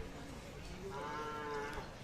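A Khillar cow lows once in a drawn-out, tonal moo lasting about a second, set against steady crowd murmur and background noise at a crowded rural cattle exhibition.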